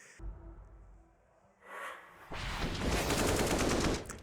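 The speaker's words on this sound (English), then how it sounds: "so he's gonna do it with the Glock" Glock pistol fire in Counter-Strike at a professional esports match, a quick burst of rapid shots after a brief sharp crack, fairly quiet, with no talk over it.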